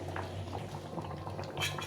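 Khichuri simmering in a kadai, a steady close bubbling and spluttering of thick boiling liquid with no talking.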